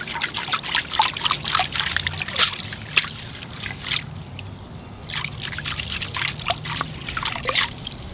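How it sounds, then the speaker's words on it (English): Bonsai roots swished and dunked in a tank of water on a rainy day, close trickling and splashing with dripping bursts that pause midway, then resume. "I'll wash the roots so I can see them even better"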